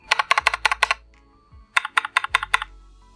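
Two quick runs of typing on an all-aluminum Idobao ID80 V2 mechanical keyboard, crisp clacky keystrokes with a slightly pingy metallic ring and a short pause between bursts.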